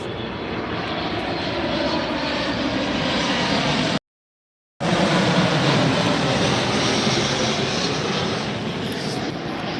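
Alaska Airlines jet at Tampa airport, its engines roaring loud and steady with one brief dropout mid-way, broadband jet noise dominating throughout.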